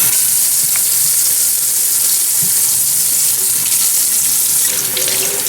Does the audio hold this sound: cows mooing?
no